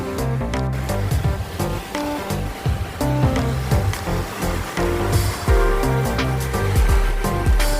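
Sea waves breaking on the shore at Maputo, a loud, continuous surging wash with irregular crashes and swells, close by and without speech.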